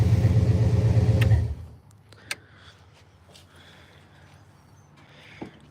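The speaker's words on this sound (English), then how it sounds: "This thing's gonna learn a lot sitting here idling." A car engine with a cracked radiator idles with a low, throbbing rumble that is loud at first, then drops to a faint steady hum with occasional small clicks.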